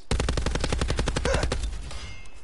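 A video game gun fires a rapid, steady burst of loud automatic shots at close range, the rounds stopping abruptly and leaving a brief ringing tail.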